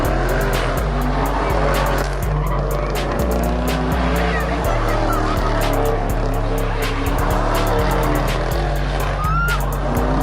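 An all-wheel-drive car sliding in the pit at a car meet, engine bouncing off the limiter in rapid pulses while tires squeal continuously, loud and close, with crowd voices mixed underneath.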